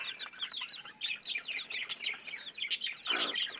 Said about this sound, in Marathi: ही कोंबडी आहे ती हिची पिल्लं आहेत